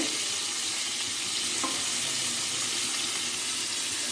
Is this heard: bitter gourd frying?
yes